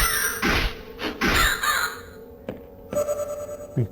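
Harsh crow caws from the House of Necros dungeon-crawler game, several loud separate calls in an irregular burst, with a game chime sounding alongside.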